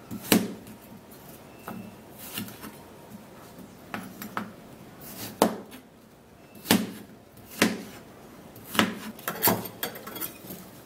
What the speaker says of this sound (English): So I'm going to be cutting it in little cubes.